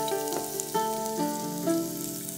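Chopped onion sizzles steadily while frying in a pan, a close crackling hiss with a few brief stirring bumps.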